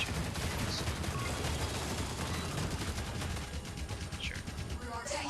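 Continuous rapid gunfire during a Titans Ruins match in the online action game Master X Master, a dense, unbroken rattle of shots that dips slightly near the end, with no talking.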